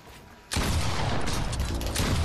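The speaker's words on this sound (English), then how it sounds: "Who the hell is he shooting at?" Fortnite video game gunfire: a loud, dense burst of shots that starts abruptly about half a second in and carries on steadily to the end, over a quieter game background.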